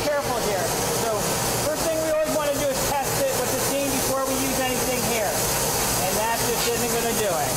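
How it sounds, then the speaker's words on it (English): A dry cleaning steamer hisses steadily and loudly throughout while being tested on a stained garment, a continuous broadband rush of steam with voices talking underneath. "First thing we're going to do is I'm going to test it with the steam."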